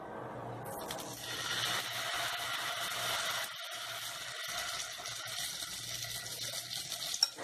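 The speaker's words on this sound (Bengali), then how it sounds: "আমি আরো কয়েকটা সেম ভাবে ভেজে নেব।" Potato pancakes frying in a pan over low gas, a steady close sizzle that starts after a moment of quiet and holds throughout with a few faint clinks near the end.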